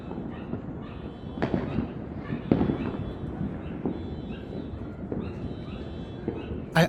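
Fireworks crack and thud outdoors at scattered, irregular moments, mostly distant and muffled, over a continuous rumbling background.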